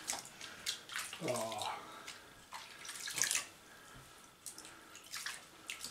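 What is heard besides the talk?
running tap water for bathing ferrets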